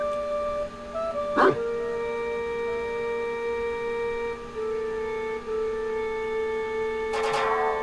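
A dog in Ace Attorney Investigations 2 gives a sharp bark early on and a short burst of yips near the end, set against sustained game music tones.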